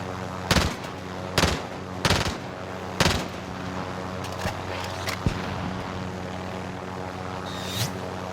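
Gunfire in the video game Call of Duty Warzone: a handful of sharp, widely spaced shots over a steady droning aircraft or helicopter hum, with one more distant pop near the end.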